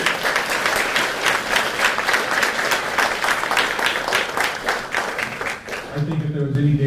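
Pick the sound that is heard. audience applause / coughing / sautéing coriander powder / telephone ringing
audience applause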